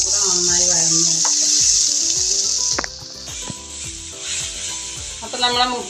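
Onions sautéing in a pan make a continuous, close sizzle broken by repeated scraping stirs of a utensil, with the frying hiss easing slightly partway through.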